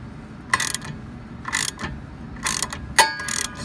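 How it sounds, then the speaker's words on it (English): A ratchet wrench cranks on a 14 mm brake bolt on a Mazda Miata, giving four short, distinct bursts of clicking at steady intervals, close and clear against a quiet background. "You want to get it on there and just start cranking away. You're gonna hear it pop."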